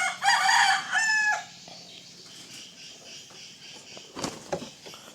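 A rooster crows loudly and close in its first second and a half, a bright drawn-out call, followed by quieter farmyard rustling and a few faint clucks near the end, kept as a chicken undergoing conditioning and exercise care.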